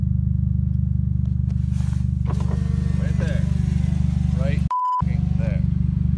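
A loud, raw engine rumble drones steadily throughout, harsh and unmuffled with the exhaust pipe cut off, with a brief beep near the end and a voice speaking over it.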